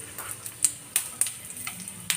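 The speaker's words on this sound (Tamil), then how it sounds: "இப்போ இந்த மீன் பொரிச்ச எண்ணெயிலேயே நம்ம வந்து கொஞ்சம் சோம்பு போட்டுக்குவோம். நல்லா வெடிக்கட்டும்." Fennel seeds crackle in hot oil left over from frying fish for a fish masala gravy, giving sparse, sharp pops over a faint, quiet sizzle.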